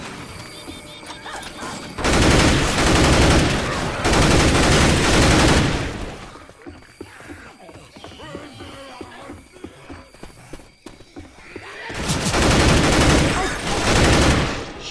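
Bursts of automatic gunfire in Left 4 Dead 2 on a swamp campaign, two long dense volleys, a quieter stretch of scattered shots and clatter, then another heavy volley, with occasional voices in between.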